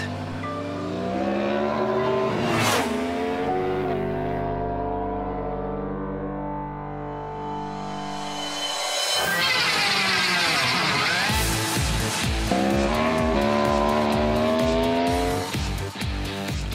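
A Yamaha R1 sport motorcycle ridden by the MOTOBOT humanoid robot, its engine loud and close, rising and falling through revs with tonal whine and shifting pitch, ending in hard acceleration runs; no talking.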